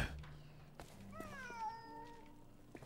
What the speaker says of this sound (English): You're you're such a loud cat.